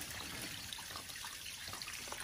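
Water trickling steadily from the delivery side of a ram pump during commissioning, a faint, continuous dribbling stream with light splashy texture and no talk over it.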